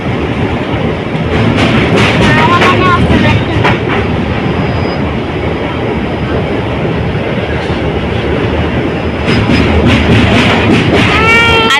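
Pinakini Express passenger train running out of Vijayawada, heard from on board as a loud, steady rumble with rhythmic clickety-clack of wheels over rail joints and brief squeals throughout.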